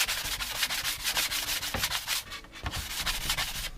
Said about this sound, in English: So I'm going to take a little sanding sponge and just knock down some of the places where the glue seeped through.